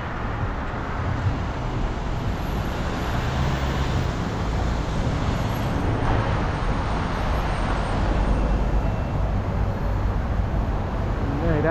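Steady street traffic rumbles along a road on a walk with an Australian Shepherd, cars passing in a continuous moderate wash of engine and tire noise.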